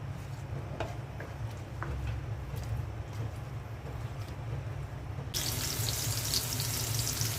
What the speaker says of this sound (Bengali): চিংড়ি মাছের শুটকির ভর্তা করব, তাই পেঁয়াজ, রসুন আর শুকনো মরিচ ভেজে নিচ্ছি।